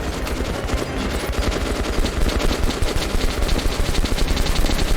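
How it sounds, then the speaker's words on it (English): A mini machine gun blazes in Metro: Last Light Redux, with rapid, steady automatic fire that is loud and close and runs unbroken for about five seconds. "This mini machine gun here."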